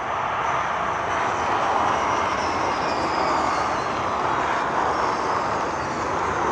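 A steady, loud high-pitched whine with a broad rushing roar as electric Mini race cars stream past at a Nürburgring DTM event, sustained throughout without pause.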